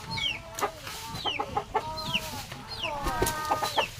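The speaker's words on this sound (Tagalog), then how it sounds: "Dito din ang mga manok na nagpipisa." Hens brooding on eggs cluck repeatedly near a farmhouse kitchen, a steady run of short clucks and chirpy calls over a low background rumble, with no one talking.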